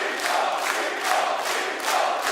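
Esports audience at a StarCraft 2 WCS Premier League match, a loud continuous crowd roar of cheering and shouting with surging pulses.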